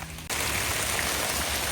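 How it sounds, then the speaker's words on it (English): Rain falling during sunshine on a spring hike patters in a dense, continuous hiss, close and fairly loud, starting abruptly after a brief quieter moment. "Sun rain, everybody."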